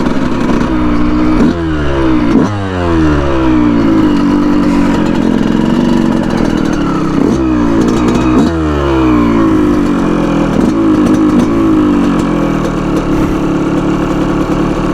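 A Yamaha YZ125 two-stroke dirt bike on a sandy beach revs hard and loud, its pitch sweeping up and down in repeated surges, held near and steady throughout.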